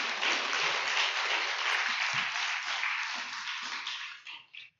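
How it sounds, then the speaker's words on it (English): Applause from a live audience at an Astronomy on Tap science talk night in Baton Rouge, a dense, steady clatter of many hands lasting several seconds before tapering off and stopping. "let's give her a round of applause"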